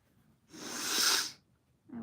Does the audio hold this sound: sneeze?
yes